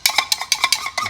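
A mixing bowl is scraped out with quick, repeated strokes, about ten short close scrapes in fast rhythm, loud and alone.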